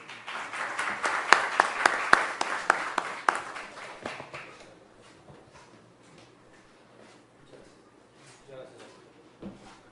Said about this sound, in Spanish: al cual también recibimos con un fuerte aplauso.